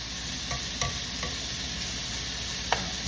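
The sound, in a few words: bacon frying in a pan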